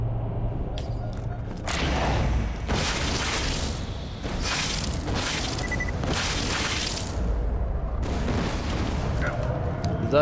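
A grenade blows up in Resident Evil 4, a loud burst with a booming low end and shattering debris, followed by further crashing impacts and rumbling game effects through the clip.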